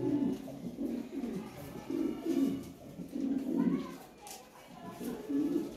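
Lahori Sirazi pigeons in a breeding pair coo in repeated low, rolling phrases at a regular rhythm, close and fairly soft, with faint background sounds.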